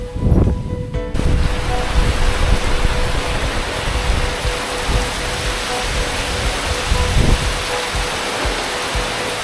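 Heavy rain pours down on a house with new eavestroughs in a dense, steady hiss, loud and continuous, with occasional low rumbles underneath.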